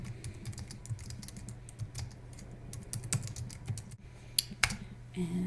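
Fingers type on a computer keyboard, composing a short post: a steady run of light, quick key clicks with occasional louder taps, fairly quiet and close, with no one speaking.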